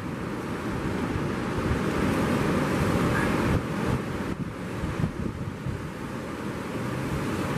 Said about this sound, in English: Yamaha's ready to thump the boat through the surf zone